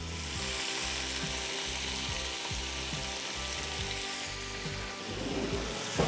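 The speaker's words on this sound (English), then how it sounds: "a tablespoon of garlic that we're actually gonna saute in the bacon grease" Spanish onion and a tablespoon of garlic sautéing in bacon grease inside a Ninja Foodi multi-cooker, a loud continuous sizzle with a low steady hum beneath and a brief stir or scrape near the end, no talking.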